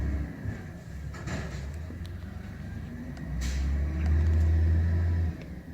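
A 520 garbage truck engine rumbles low and steady, then revs louder toward the end before easing off, with scattered clanks and knocks over the drone.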